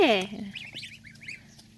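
A goose gives one sharp, loud honk right at the start, near and brief, followed by a few faint, higher bird chirps over a quiet yard.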